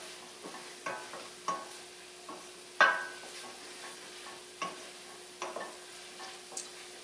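Mushrooms frying in a pan with Worcestershire sauce for chicken stroganoff are stirred, giving a series of spaced scrapes and clanks against the pan, one louder knock, over a low sizzle with no speech.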